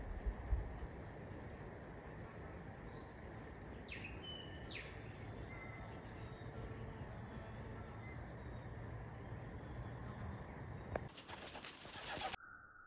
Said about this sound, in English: Bit of bird life, kidderoo, wax eyes